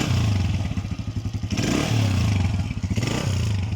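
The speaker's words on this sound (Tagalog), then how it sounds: "napakaganda ng tunog niya mga ka-GM yung kanyang makina" An MCW motorcycle fitted with a sidecar idles and revs close by, a loud throbbing putter that swells and eases repeatedly.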